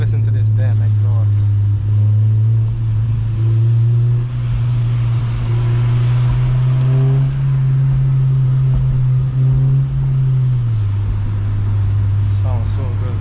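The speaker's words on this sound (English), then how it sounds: "Just listen to this damn exhaust." A Rev9 catback exhaust on an 8th-gen Honda Civic Si drones steadily while driving in the rain, a loud continuous low engine note with slight rises in pitch, no voices.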